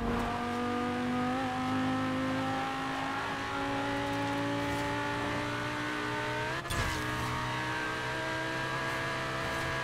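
A car engine in Forza Horizon 4 holds a steady, droning rev at speed, its harmonic whine climbing gradually, with a brief disturbance midway before the engine carries on alone.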